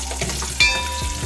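Ten small whole onions drop into hot oil with curry leaves and sizzle steadily up close, with a stirring scrape partway through and no talk.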